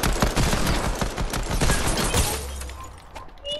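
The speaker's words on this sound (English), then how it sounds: "Pistol battle, Bane. Pistol battle" Rapid pistol fire in the Fortnite video game crackles in dense bursts of sharp, loud shots, then thins into scattered shots with a low rumble at the end.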